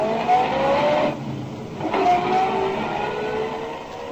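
An old-time radio drama car effect, a motor car engine driving and revving steadily at close range, rising and dipping in pitch over a few seconds with no voices over it.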